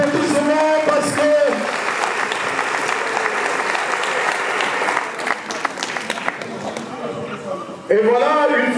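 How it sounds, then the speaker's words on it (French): Dense crowd applause fills a ceremony hall in Pointe-Noire, Congo, loud and sustained for most of the stretch, with voices talking over it at the start and again at the end as the clapping dies away. "On peut lui donner les applaudissements"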